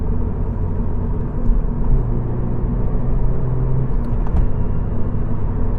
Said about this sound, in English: The sound, that sort of bellow is actually satisfying.